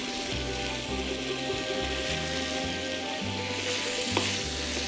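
Cubed cuttlefish and swordfish frying in a pan for fresh pasta with eggplant, with a loud, continuous crackling sizzle, a low steady hum underneath and a single sharp clink near the end.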